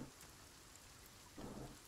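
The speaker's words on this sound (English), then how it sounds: "It's kind of raining." Rain and a low rumble of thunder from the Sons of the Forest video game, with a soft continuous patter and a brief swell of louder rumbling near the end.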